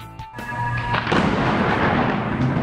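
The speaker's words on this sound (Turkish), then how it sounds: "Uçak tam havalandığı sırada yıldırım düştü." Lightning strikes near an airport as a passenger plane takes off, and a sharp crack is followed by a loud, sustained rolling rumble of thunder that fills the rest of the moment.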